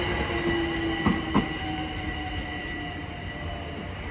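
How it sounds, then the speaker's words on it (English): A London Overground Class 378 electric train passes at Sydenham on the Brighton Main Line, running the Highbury and Islington to Crystal Palace service. It gives a steady rumble with a sustained tonal whine, and two brief clunks mid-pass. No one speaks. "here is the 1342 London Overground service from Hybri and Islington to Crystal Palace"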